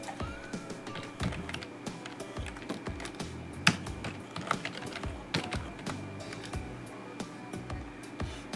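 A password goes in on a computer keyboard in quick, uneven bursts of close key clicks with a few louder taps, heard alone without talking.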